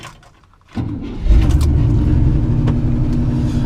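A 1967 Chevy C10 pickup engine catches after a brief quiet moment, then climbs to a loud, rising rev and settles into a strong, steady high idle close by, with no talk over it.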